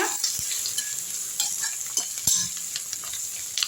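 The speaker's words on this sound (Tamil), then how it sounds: "வெங்காயத்தை வந்து நல்லா வதக்கி விட்ருங்க" Finely chopped onions sauté in a pan for tomato rice, a close, steady sizzle broken by repeated scraping and clinking strokes of a spoon stirring against the pan.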